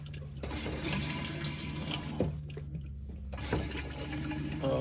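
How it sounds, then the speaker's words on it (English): Water rushes steadily into a newly installed Dometic toilet bowl, a continuous close hiss of filling with a couple of brief clunks partway through. "Fills the bowl real nice."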